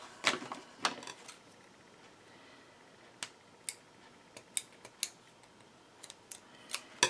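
Scissors snip through a cord for a polymer clay face mask holder, a run of sharp, close, quiet clicks and cuts spaced irregularly, with a cluster early on and more spread through the rest.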